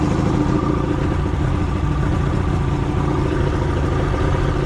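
A Glastron CV16 boat engine runs steadily and loudly nearby, a continuous low, clattering drone with no break in its rhythm and no talk over it.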